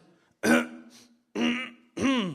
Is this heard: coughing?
yes